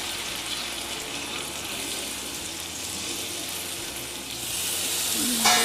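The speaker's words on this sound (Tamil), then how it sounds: "இப்போ நம்ம இதில் வந்து ஆனியன் பேஸ்ட்டு சேர்த்துக்கலாம். சேர்த்து நல்லா இதுக்குறோம் மிக்ஸ் பண்ணி விடலாம். நல்லா வதக்கி விடலாம்." Onion paste sautés in a pan for a paneer white gravy, giving a steady wet hiss and sizzle that grows louder toward the end, with a short clink at the close.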